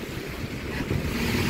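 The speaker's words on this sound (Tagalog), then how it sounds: "Mahangin!" Strong wind buffets the microphone with a constant rushing roar, mixed with the hiss of heavy rain, in the UK.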